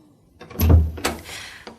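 A door opens in an indoor room, two short close knocks and rattles of handle and wood, moderately loud and heard alone.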